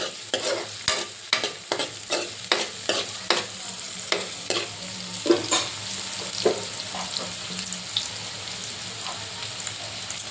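Sliced onion frying in hot oil for an egg gravy curry, stirred with a spoon at a steady, regular rhythm of scrapes over a constant low sizzle, close and clear with no voices.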